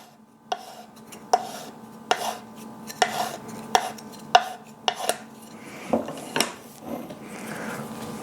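A wooden stir stick knocks and scrapes inside a can of polyurethane in roughly ten quick, evenly spaced taps, close and fairly quiet, with no talking.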